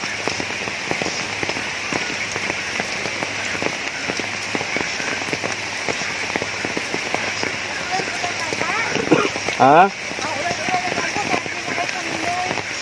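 Heavy rain pours steadily on surfaces, a dense, loud hiss with constant spattering drops throughout, while people talk briefly beneath it and a short exclamation cuts through near the end.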